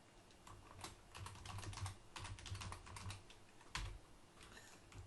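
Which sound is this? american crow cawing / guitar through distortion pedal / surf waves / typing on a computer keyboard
typing on a computer keyboard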